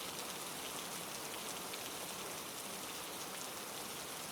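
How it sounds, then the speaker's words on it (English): Steady rain falls in a dense, even hiss of drops, soft and continuous with no voices, like a constant wash of rainfall on surfaces. "You are listening to the rain,"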